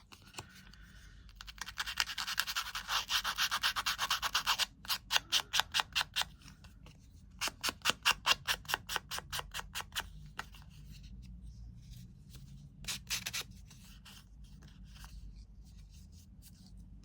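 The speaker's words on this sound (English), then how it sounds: "Any sandpaper will do." Sandpaper rubbed along paper edges in crafting: a long continuous scraping stretch, then rapid rhythmic back-and-forth strokes in short runs, close and fairly soft, with pauses between passes.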